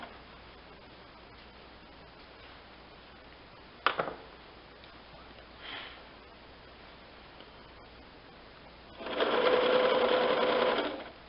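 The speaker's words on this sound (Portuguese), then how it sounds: "Costura de novo." A sewing machine stitching a cushion cover, with one short burst of whirring near the end after a quiet stretch broken by a sharp knock and a soft rustle, heard close by.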